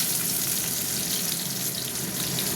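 Onion and panch phoron fry in hot oil with a dense, steady hiss and crackle. The sound is close and continuous, with no voices.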